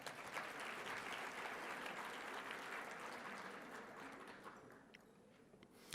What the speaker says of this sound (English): Let's give a round of applause to Cedric Holmes